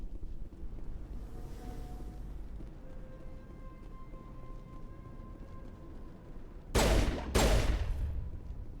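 Two sharp pistol shots fired in quick succession in Mass Effect, loud and close, after several seconds of low sci-fi ambience with faint tones.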